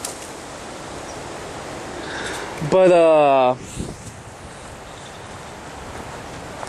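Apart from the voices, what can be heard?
wind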